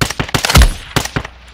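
Rapid bursts of video game gunfire, a close, loud string of sharp shots in quick irregular clusters with one heavier thump midway, over a short span.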